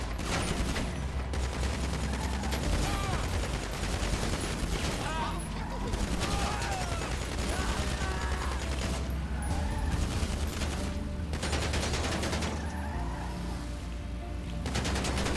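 Tec gunfire in GTA V Online: rapid automatic bursts rattle steadily over the game's background noise at a moderate level, with voices talking throughout.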